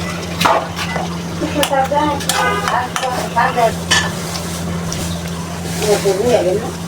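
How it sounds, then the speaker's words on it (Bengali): Hilsa fish going into spice paste that has been fried down for 25 minutes, with steady sizzling and stirring scrapes under a constant low hum while a person talks over it. "মশলাটা ভালো করে কষে নিলাম, এখন মাছটা দিয়ে দিব।"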